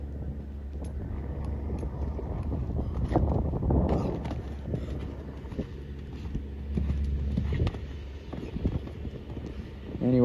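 Horse hooves during a training workout at a horse trial venue, a steady clip-clop with wind noise in the microphone and some nearby talk.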